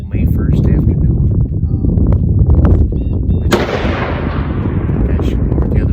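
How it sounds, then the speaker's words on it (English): Gunfire from shooters at a nearby range, heard on a May afternoon as a dense run of sharp reports, with one loud crack near the middle, under steady outdoor noise. "Guys shooting over at the other range, so bear with the gunfire in the background"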